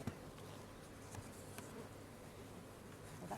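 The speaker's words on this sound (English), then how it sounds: "That way I take the stinging bees away from the bees that look after the brood" Honey bees from an aggressive hive buzz in a faint, steady drone, a continuous hum with a few louder passes of individual bees near the microphone.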